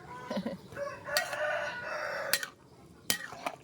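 A fighting rooster crows once in a backyard, fairly clear but a little distant, with a few clucks and faint clatter around it.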